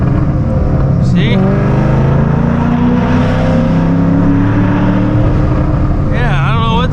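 2005-2009 Ford Mustang engine revving and stuttering around 4,500 RPM while driving, a loud close drone with rising and falling engine pitch and uneven surges, a voice talking over it.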